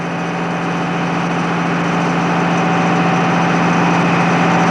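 Steady, loud engine drone from a 1985–1990 SAME Antares tractor, low and continuous with a slight rise in level across the stretch, heard close with no voices.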